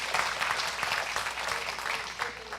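A Portuguese-speaking church congregation claps for Jesus during a sermon, a fairly soft but continuous blend of many hands clapping, with no one speaking over it.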